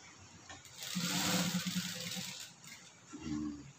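A sewing machine makes a single short stitch burst, a close mechanical whir lasting about a second and then stopping, with a small clunk near the end and no speech.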